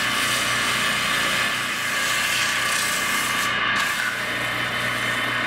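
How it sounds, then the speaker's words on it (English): Abrasive paper rubs against a turned resin pepper mill spinning on a lathe, a steady broadband hiss over the motor's low hum, continuous and fairly loud with no talk. "And I'm gonna sand it starting with 120 and just working up from there."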